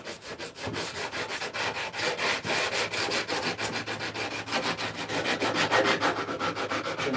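Sheet of 80 grit sandpaper mounted on a board, rubbed in quick repeated back-and-forth strokes against a workpiece at a bench, close and steady with no talking.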